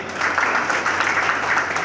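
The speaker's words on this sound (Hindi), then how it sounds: "मैं चाहूँगा उनके लिए भी तालियां बजा के उनका अभिनंदन करें।" Audience applause at a Hindi-language felicitation ceremony honouring donors: a dense, steady wash of many hands clapping together, fairly loud and continuous for the whole stretch with no voices over it.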